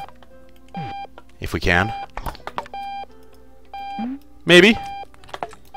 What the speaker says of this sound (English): let's turn that alarm off first